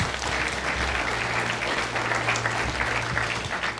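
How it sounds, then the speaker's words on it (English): A packed conference room at a Bitcoin and Ethereum summit in Toronto breaks into steady, dense applause from many hands, sustained for several seconds at moderate loudness. "So quick applaud for Sunny."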